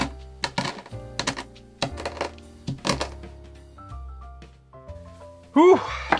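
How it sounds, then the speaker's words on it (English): Coffee beans crushed with a hammer inside a sealed Ziploc bag: several sharp, hard thunks land in an irregular rhythm over a steady low hum, with a brief louder crunch near the end. "the most low-tech way, which is a Ziploc bag and a hammer"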